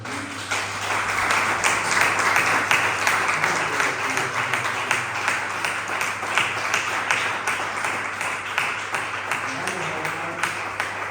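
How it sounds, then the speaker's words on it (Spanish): Congregation in a church gives a strong round of applause, sustained rapid clapping from many hands that rises quickly and keeps going for about ten seconds, with a low steady hum beneath it. "Dale un fuerte aplauso a Cristo."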